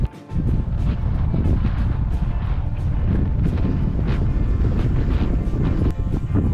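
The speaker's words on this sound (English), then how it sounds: "I'm not sure if you can hear me because of the wind" Wind buffets the microphone outdoors on a coastal walk near Craster and Dunstanburgh Castle, a loud continuous low rumble with gusty swells throughout and no talk.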